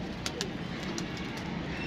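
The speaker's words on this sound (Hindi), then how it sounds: "माशाल्लाह दोस्तों दाना पानी कबूतर खा रहे हैं।" Pigeons cooing at evening while feeding on grain and water, a few soft, low coos over a quiet background with faint scattered clicks.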